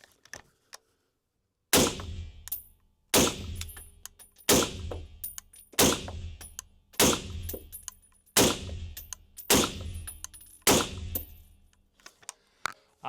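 Suppressed PWS UXR rifle fitted with a low back pressure B&T can fires eight loud, sharp shots at a steady rhythm of roughly one per 1.3 seconds, each report ringing with metallic clatter, after a brief quiet start.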